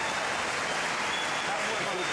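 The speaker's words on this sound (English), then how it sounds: "The crowd showing their appreciation." Crowd applause at the 2011 Alberta men's provincial curling final after a shot sends three red granite stones flying, a broad, steady wash of clapping from a large arena audience.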